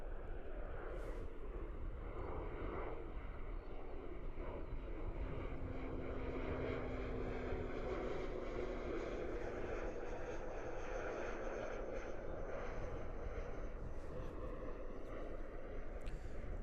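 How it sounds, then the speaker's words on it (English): An ATR turboprop airliner at Christchurch Airport drones steadily in the distance for the whole stretch, a broad continuous engine and propeller hum with light wind noise. "Gorgeous ATR action."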